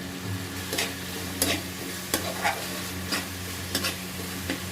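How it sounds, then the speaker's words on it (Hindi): Masala frying on a medium flame in a pan for a paneer dish, with a steady low sizzle and a hum beneath repeated spoon scrapes that come every half second or so, close and fairly loud. "मसाले को अच्छे से फ्राई करना है।"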